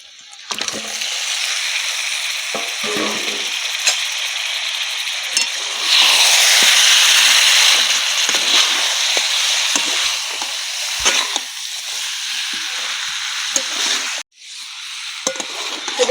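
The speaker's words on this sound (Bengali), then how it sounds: "এবার এর মধ্যে ভেজে তুলে রাখা চিকেনগুলোকে দিয়ে দিচ্ছি" Chicken pieces sizzle loudly in fried spice masala in a pan, with a steady hiss that swells as the pieces are added and stirred, plus occasional clinks of a utensil.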